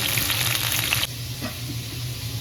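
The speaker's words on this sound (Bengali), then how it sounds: "তাহলে পটলটাকেও ভেজে নিচ্ছি।" Pointed gourd (potol) pieces frying in oil with salt, giving a steady bright sizzle that is loud for the first second, then drops to a softer, even crackle with a small bump of movement.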